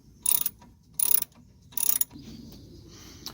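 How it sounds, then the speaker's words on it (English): A ratchet driving an Allen head key to remove a rear brake bolt on a Ford RS, three quick bursts of close, loud clicking, each about a quarter second, separated by brief pauses. "basically you just line it up in the back with your ratchet"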